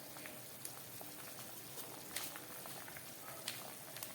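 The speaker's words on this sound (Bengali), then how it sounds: "তরকারিটা আমার ফুটে উঠেছে।" A pot of curry simmers at a steady boil, a soft continuous bubbling hiss scattered with faint pops and ticks, quiet and close.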